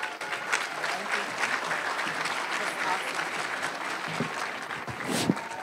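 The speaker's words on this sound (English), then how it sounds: "Let's give another round of applause for Dr. Cristales" An audience at a middle school awards ceremony applauds, a steady wash of clapping throughout, moderately loud with a few sharper claps near the end and faint voices mixed in.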